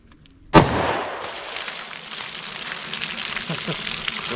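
A single loud, sharp shot from a .357 Magnum revolver with a 2-inch barrel, fired outdoors during ballistic testing, followed by a lingering noisy echo and rustle.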